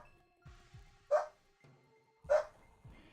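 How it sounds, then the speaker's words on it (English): A dog in The Legend of Dragoon, a PS1 video game, gives two sharp, separate barks about a second apart over quiet game sounds. "I'm gonna go see what's going on with the dog. He seems pretty uppity."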